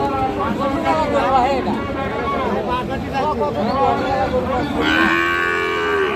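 Sahiwal cattle moo repeatedly in long, loud lowing calls at a livestock market, overlapping one another amid a busy crowd of chattering voices at close range.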